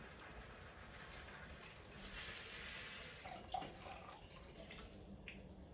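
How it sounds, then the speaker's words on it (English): Liquid, likely broth, poured straight into an emptied can of beans to rinse out leftover bean residue, a steady close splashing pour that swells midway and ends with a small metallic clink. "I like to pour it right into the can of beans to make sure that I get out any remaining bean residue"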